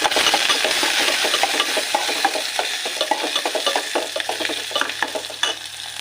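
Onions, curry leaves, mustard seeds and cumin sizzle and crackle in hot oil for a festive home recipe, with a steady frying hiss broken by frequent sharp spatters and the scrape of a spoon stirring throughout, loud and close.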